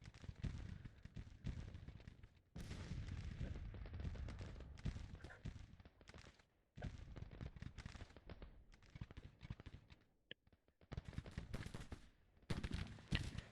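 Civil War artillery firing in Grand Tactician: The Civil War battle at Mechanicsville, dense rumbling volleys of cannon and gunfire in long overlapping bursts with brief quiet gaps, moderately distant.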